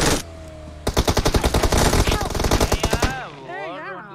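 Rapid automatic gunfire in the mobile battle-royale game PUBG Mobile, a loud burst of closely spaced shots lasting a couple of seconds, followed by tonal game effects and a voice.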